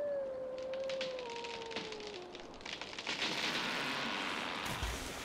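Soft gliding chime tones ring out in the puzzle adventure game Tengami, a sustained falling tone drifting under a wash of ambient rain-like hiss, no voices.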